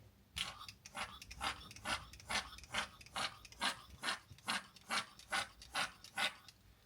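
Leather cleaner pumped from a spray bottle onto a scrub pad while detailing a Ferrari 488 Spider interior, a steady run of about fifteen short, soft, close pump strokes in an even rhythm.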